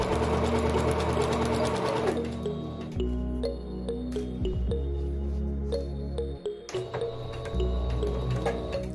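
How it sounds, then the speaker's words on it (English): A sewing machine stitches a 1 centimeter seam on a satin-lined African print bonnet, the motor humming steadily near the mic, then slowing into short stop-start bursts with clicks of the needle and mechanism. "Now I'm sewing my bonnet together with a 1 centimeter seam allowance"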